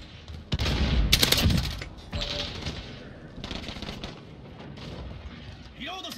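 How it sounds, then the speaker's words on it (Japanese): A cruise missile launch in the Call of Duty: Modern Warfare video game brings a sudden loud, heavy blast with rumbling bursts and crackling impacts, then a lingering lower rumble mixed with further scattered shots. "巡航ミサイルを発射した。"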